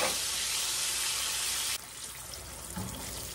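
Steak flash frying in really hot grease for Swiss steak, a loud, dense hiss and sizzle that suddenly drops to a softer, steady crackle partway through, with a faint clunk near the end.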